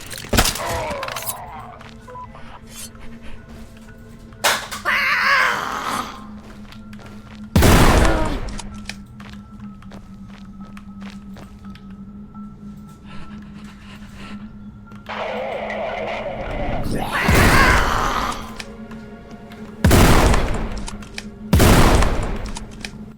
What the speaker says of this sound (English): The harpoon gun is a nice addition to the arsenal